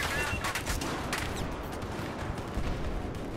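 Scattered Battlefield 4 gunfire, sharp shots and short bursts cracking at mid distance over a constant rumble of battle noise, fairly faint and uneven in rhythm.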